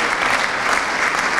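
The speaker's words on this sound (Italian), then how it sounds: "un applauso per i giovani" Audience applause greets young performers walking onto a stage at a community music event, a dense, even wall of clapping that stays loud and continuous throughout the brief moment.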